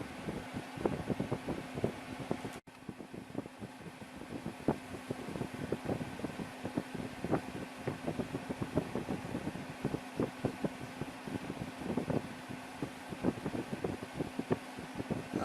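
An LG LW1216ER window air conditioner runs steadily with a broad airy fan whoosh and low hum, close and continuous, with faint irregular ticks and rattles throughout and no talk.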